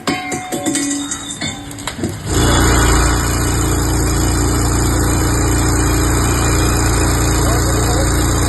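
A Royal Enfield Bullet motorcycle left running on its stand in Thiruvananthapuram before catching fire: after a brief jumble of clatter, a loud, close, unbroken engine drone holds steady to the end.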